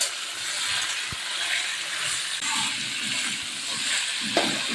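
Long beans and drumsticks frying in a pan with oil alongside aubergine: a steady soft sizzle throughout, with occasional knocks and scraping of stirring against the pan, and no talk.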